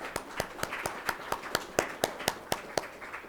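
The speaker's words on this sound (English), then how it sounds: "So let's clap for that" Clapping at a graduate design program's introductory session, heard as a steady, evenly spaced run of about a dozen crisp claps, fairly faint and alone with no talk over it.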